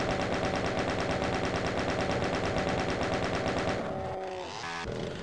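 Rapid, continuous automatic gunfire rattles loudly and evenly in the classic Doom video game for about four seconds, then breaks into a few clipped mechanical shots and clicks.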